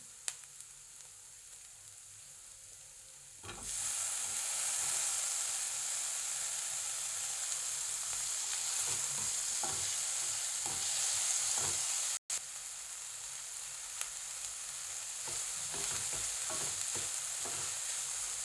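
Onion, tomato and capsicum fry in a pan while being cooked for an egg-capsicum dish, a quiet start that breaks into a loud, sustained sizzle with occasional stirring scrapes and a brief cut, no speech.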